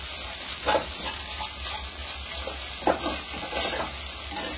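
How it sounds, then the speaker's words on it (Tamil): Cooked rice stirred into a hot pan for carrot rice, producing a constant loud sizzle and hiss with a few heavier stirring scrapes, close and without talk. "நம்ம சாதத்தை போட்டு கிண்டிடலாம்"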